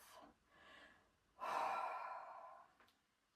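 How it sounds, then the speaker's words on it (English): A big exhale through the mouth during a gentle stretching routine, preceded by a softer breath, the main breath a loud, close, airy whoosh lasting about a second before fading to quiet. "a big exhale through the mouth"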